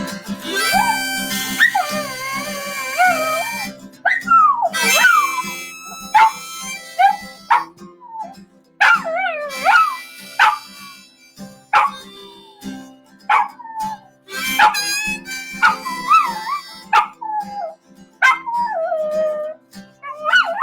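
A rescue dog howls in long, wavering, rising and falling cries broken by sharp yips and whimpers, loud and close, repeating in bursts over about twenty seconds with no talking.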